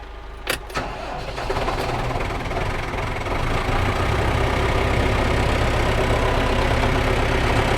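A Zago shredder's engine catches after a couple of sharp knocks, then settles into a steady, loud, rumbling idle while it warms up, its drone swelling slightly and holding to the end.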